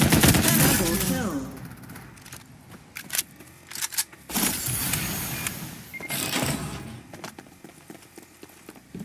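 Gunfire from the video game Farlight 84 crackles in sharp bursts and rapid volleys, loud shots clustering between pauses, with short in-game voice lines heard briefly near the start.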